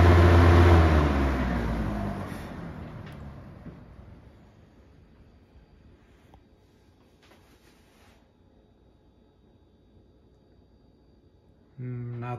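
A 1995 Lakewood 200 20-inch box fan spins down after being switched off from high, its whooshing hum fading steadily over several seconds into near silence before a brief new noise starts at the end.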